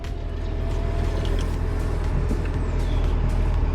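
An Audi TT engine settles into a steady idle just after starting, a dense, even low rumble heard alone throughout with no talking.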